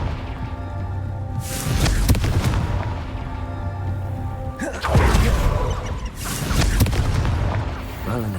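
Fire-spell blasts cast in a wizarding action game, several loud booming bursts with crackling debris, arriving in quick succession over a steady game soundscape, with a voice mixed in.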